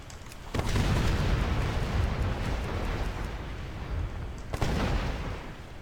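A heavy, sustained rumbling blast in World of Warcraft Legion, loud and broadband for several seconds, with a second sharp burst near the end.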